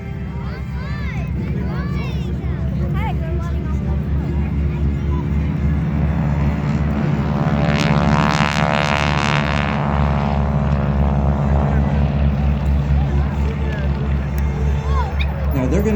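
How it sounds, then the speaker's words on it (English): A Stearman biplane's radial engine drones loudly during its takeoff roll at an air show in Bealeton, Virginia, swelling mid-clip under crowd chatter and nearby voices. "let's watch the takeoff roll"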